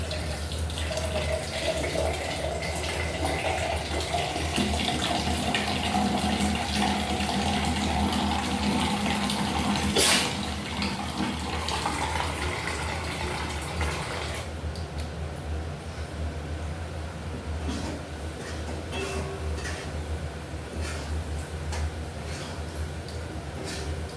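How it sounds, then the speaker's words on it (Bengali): Water pours from a tap in a kitchen while it is collected for a thin fish curry gravy: a steady rushing stream that runs for a long stretch and softens after a brief clatter midway. "আমি এখন একটু ঝোল নিয়ে নিচ্ছি, জল, ভালো জল নিয়ে নিচ্ছি ঝোল দেওয়ার জন্য।"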